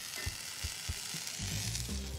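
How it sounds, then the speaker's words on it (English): Steady sizzling of kale and beetroot frying in a pan, a broad hiss with a few soft knocks and stirring sounds underneath. "the kale and the beetroots just touching the frying pan"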